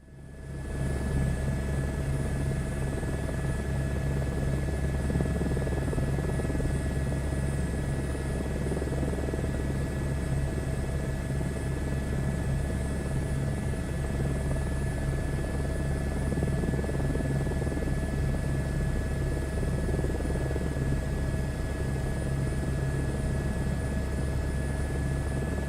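Helicopter rotor and engine in Microsoft Flight Simulator 2024, a loud, constant droning rumble with a steady whine, unbroken for the whole stretch with no talking.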